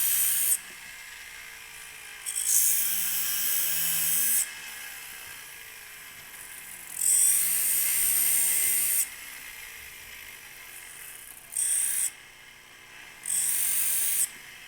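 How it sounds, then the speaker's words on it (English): Bursts of high, hissing abrasive grinding from a sanding disc on a jewelry ring bezel come and go repeatedly over a steady low motor whir, each lasting a second or two. "I'm just going to use the sanding disc and sand it down some"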